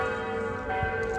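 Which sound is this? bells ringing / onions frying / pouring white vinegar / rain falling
bells ringing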